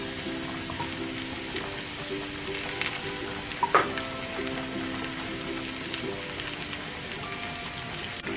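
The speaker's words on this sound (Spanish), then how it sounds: "Y ahorita lo que voy a hacer es guisarlos con todo y los ajos." Shrimp sizzling in a pan with browned garlic, a steady close crackle and hiss with a few sharper pops and a brief stir, no voices.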